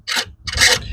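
Screw being backed out of an off-road tail light, two short rasping, grinding squeaks in quick succession, close and loud.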